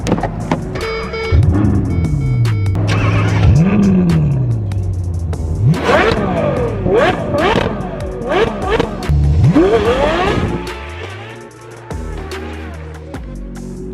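A Ferrari V12 engine revs hard several times in a tunnel, pitch sweeping up and down with echoing roar, then drops back to a rumbling idle; loud and close.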